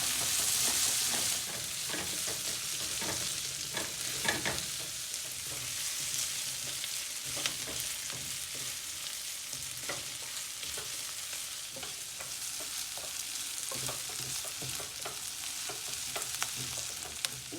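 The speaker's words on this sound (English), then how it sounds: "and keep frying together." Chopped ginger and onions sizzle and crackle steadily in a hot pan, with occasional scraping stirs and small pops throughout, close and moderately quiet.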